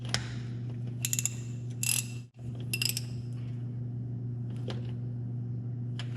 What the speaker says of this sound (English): we'll go ahead and put the drain bolt back in and tighten it up